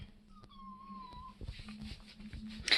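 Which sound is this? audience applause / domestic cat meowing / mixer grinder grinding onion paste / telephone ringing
domestic cat meowing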